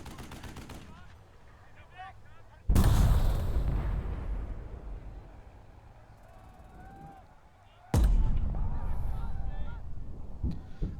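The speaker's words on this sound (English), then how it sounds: "And they're firing back with artillery." Artillery fire in the war game Burden of Command, two heavy booming blasts that ring out and slowly decay, with quieter rumbling and faint gunfire between them.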